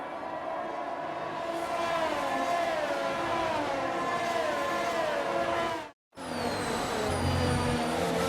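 Formula 1 cars on a formation lap in the F1 22 racing game, multiple engines droning and whining with shifting pitch, a steady loud blend broken by a brief cut before more engine tones resume.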